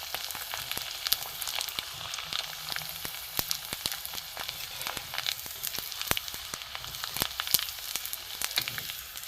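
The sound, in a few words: semolina papad frying in hot oil in a wok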